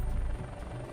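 Rotor thump of a Chinook helicopter in a zombie outbreak strategy video game, a steady low chopping drone for about a second with no voices.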